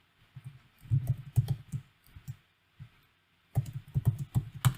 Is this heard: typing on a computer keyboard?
yes